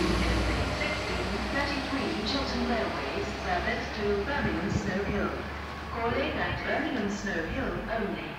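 A London Midland Class 172 diesel train pulls into Birmingham Moor Street station, a steady rumble and rolling rail noise holding for the whole stretch, with voices and station bustle over it.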